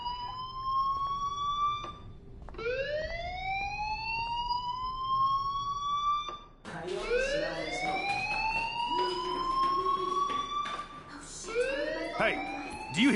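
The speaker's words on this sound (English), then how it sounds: "Hey, do you hear that fire alarm?" A fire alarm in a video game sounds as a series of loud, repeated rising electronic whoops, each sweeping upward and restarting, with a brief gap midway through.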